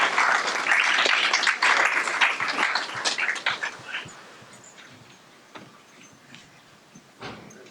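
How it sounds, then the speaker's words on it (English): Audience applause at a school district board meeting, loud and dense at first, then thinning into scattered claps and fading over several seconds. "One more round of applause for the kids."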